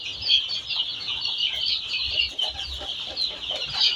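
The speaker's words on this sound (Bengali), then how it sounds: "কোনটাকে যেন দেখলাম মোরগের মতন ডাকতেছে।" A young Sonali chick, nine days old, attempting a rooster-style crow amid a flock of chicks, with continuous high peeping and clucking close by.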